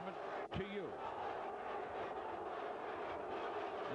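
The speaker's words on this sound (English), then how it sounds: "The crowd is in a turmoil. They're chanting obscenities." A boxing arena crowd in turmoil roars and chants obscenities, a dense, steady wall of distant voices with a few louder rising shouts near the start.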